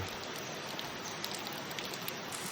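Steady rain falling on a surface, a dense continuous hiss of drops with no voices, fairly close and even throughout.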